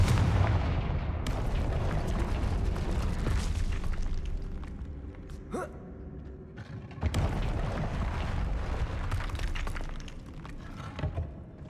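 A burst of booming, crackling spell blasts from a Harry Potter video game, the Confringo explosion curse, with repeated loud impacts and debris-like shattering that dips briefly near the middle before a second wave of blasts returns.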